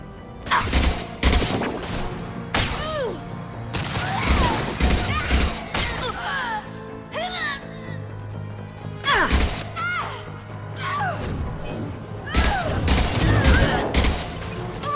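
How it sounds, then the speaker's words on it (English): Gunfire in Mass Effect 2 on Illium comes as loud, close bursts of rapid shots and impacts in irregular clusters, broken by short pauses, with whistling and whooshing effects between them. "Firing a high-impact shot."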